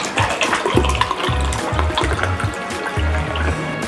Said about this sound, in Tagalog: ilalagyan ko na siya ng tubig